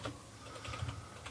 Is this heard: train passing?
no